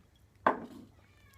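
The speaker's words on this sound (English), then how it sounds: "my cat's like dying outside, so I'm gonna go get him and bring him in" A single cat meow sounds outdoors, one short sharp cry that quickly fades, faint and isolated against quiet background noise.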